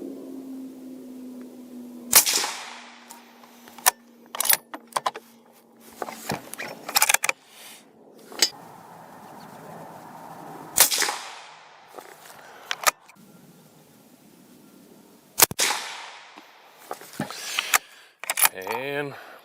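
A rifle fires Fiocchi .204 Ruger ammunition in a 100-yard group test. Three sharp, spaced shots crack out, mixed with handling clicks and rustle, and someone talks in between.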